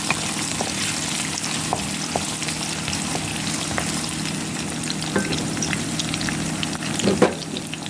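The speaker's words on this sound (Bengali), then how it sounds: "প্রথমে আমি দিয়ে দিব মিক্স করে কেটে রাখা পেঁয়াজগুলো, দিয়ে হালকা একটু ভেজে নিব।" Chopped onions sizzle steadily in a hot pan, a constant close frying hiss broken by occasional soft clicks and stirring scrapes, with no voices.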